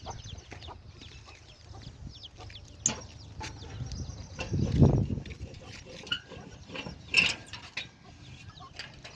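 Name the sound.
chickens clucking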